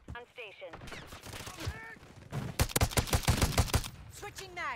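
Gunfire in Modern Warfare 3 with a DM56 rifle: dense bursts of rapid shots, loudest and most continuous in the latter half, mixed with speech-like voices and game chatter throughout.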